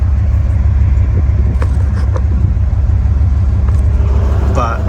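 Engine of an OBS dually pickup truck driving on a road, a constant loud low rumble throughout with cabin noise, and a person talking briefly over it.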